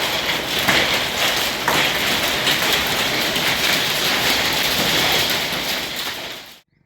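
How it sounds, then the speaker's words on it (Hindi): Hail pelting down during a sudden, unseasonal storm at an ashram, a loud, dense and continuous patter that keeps up throughout before cutting off abruptly at the end, with no talking. "ओले पड़ रहे हैं अभी।"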